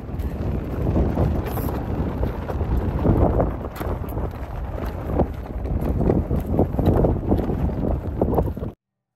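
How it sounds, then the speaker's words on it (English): Strong wind buffets the microphone in heavy, uneven rumbling gusts throughout at the Royal Gorge Bridge, Cañon City, Colorado, with no talking. "And right now it's so windy."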